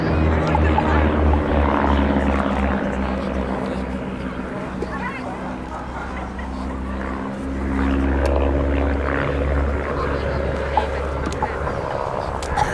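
A vintage de Havilland Chipmunk propeller aircraft flies at the Cosford Airshow, a steady droning engine hum swelling slightly toward the end, heard under continuous commentary from a voice on the public address.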